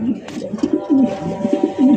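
Bombay pigeons at a pigeon farm coo in repeated low, rolling calls, several birds overlapping close by with steady loud cooing throughout.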